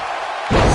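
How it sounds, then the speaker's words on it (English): A wrestler slams down onto the mat in WWE 2K19, a single loud heavy impact that hits abruptly midway and rings on with crowd roar from a stadium of over 77,000 fans. "Slam down hard."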